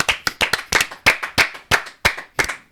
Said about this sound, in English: One round of applause for his service.